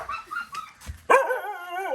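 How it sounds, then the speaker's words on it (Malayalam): A dog close by gives a sharp bark that trails into a whining, whimpering yip, following a few quieter soft sounds. "അത് വേണ്ടപ്പെട്ടൊരു പട്ടി."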